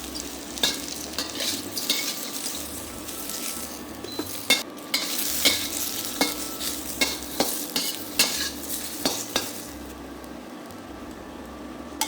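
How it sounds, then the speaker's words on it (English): Mushrooms frying in a hot pan, a continuous sizzle broken by repeated scraping strokes of a utensil stirring them, close and clear, with no talking. "Next, add in the mushrooms. Fry them for about 2 to 3 minutes."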